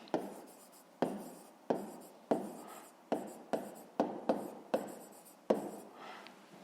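A pen writes out a grade 5 math solution on paper in roughly ten separate quick strokes, each a crisp scratch that fades, close and fairly quiet, with no voices.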